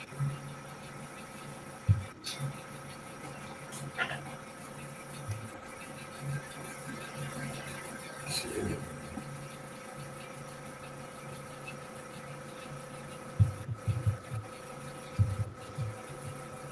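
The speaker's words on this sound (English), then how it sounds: "hear my compressor kicking on in the background for my airbrushes" Airbrush air compressor running steadily in the background of an art studio, a faint continuous hum and drone with occasional soft clicks and bumps nearby.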